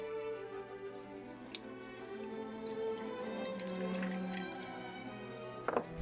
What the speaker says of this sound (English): Once the cassava is in, squeeze out the excess liquid, but don't squeeze it completely dry.